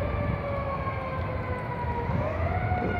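A police siren wails steadily in the distance, its tone holding and then sliding, with traffic rumbling beneath it.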